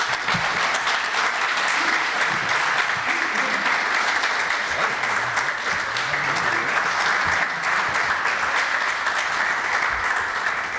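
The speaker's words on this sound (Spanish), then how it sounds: "quiero pedir de todos ustedes un fuerte aplauso para recibirlo" An audience at a lecture on art by the sea breaks into sustained, steady applause welcoming the speaker, a dense wash of clapping that holds at full strength throughout.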